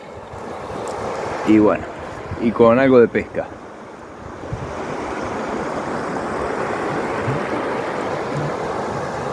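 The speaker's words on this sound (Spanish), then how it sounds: "con el ruido de la cascada" Steady rushing water from a waterfall by a creek campsite at night roars without a break, with someone speaking briefly near the start over it.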